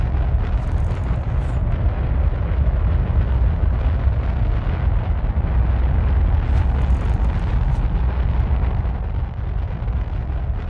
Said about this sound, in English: The engines back there are loud.